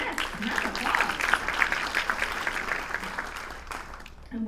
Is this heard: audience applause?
yes